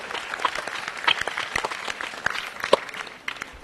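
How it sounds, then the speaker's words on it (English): Scattered, fairly faint clapping from a small audience at an Indian Army quiz semi-final in Chennai, with irregular individual claps rather than a dense roar. "Can we have a round of applause, please, for Friends Academy?"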